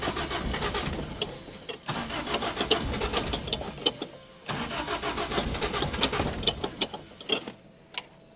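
A 1975 Toyota Corolla KE35 on jack stands, its engine cranking and sputtering as it struggles to start on a weakening battery, with repeated uneven bursts and brief catches close by.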